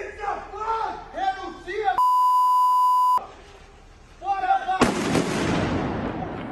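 Fireworks rockets set off by protesting Cruzeiro football fans, heard as a loud broadband burst of bangs near the end, with talk, a long steady beep tone and crowd noise before it.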